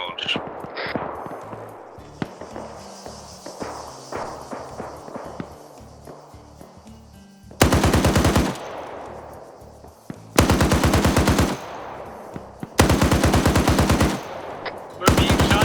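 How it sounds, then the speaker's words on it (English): Gunfire in a military video game: scattered single shots and rapid clicks early on, then several long, loud bursts of sustained machine-gun fire separated by short gaps. "We're being shot at bearing 30"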